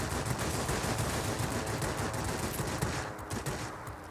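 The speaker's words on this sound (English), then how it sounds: "Good chance to try out my guns here, what I came here to do," Yak-3 fighter plane machine guns fire in the World of Warplanes video game, a dense and continuous stream of rapid shots, loud and close, tapering slightly near the end.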